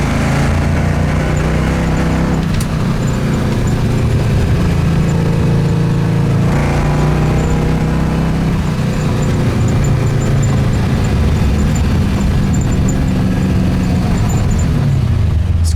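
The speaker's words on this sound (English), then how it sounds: "Car's got a ton of power." A 1966 Ford Mustang with a four-speed manual runs steadily, its engine giving a loud, continuous low rumble with slight shifts in pitch as it drives, with no voices over it.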